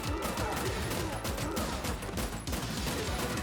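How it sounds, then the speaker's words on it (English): Dense, rapid gunfire from the side-scrolling game Terminator 2D: No Fate, a loud continuous fusillade of shots running without pause under a busy game soundtrack. "I just keep shooting."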